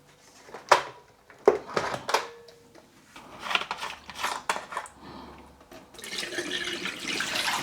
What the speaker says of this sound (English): go and empty the dirty water tank, because it's pretty filthy in there now, and go and fill the clean water tank at the top.